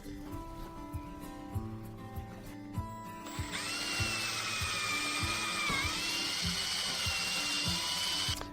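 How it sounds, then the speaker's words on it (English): A power drill bores a hole in the door of a 2014 Ford Transit van, whirring steadily, rising to a loud sustained high-pitched grind as the bit bites through metal, with faint knocks underneath. "When we drill the hole for the emergency cable"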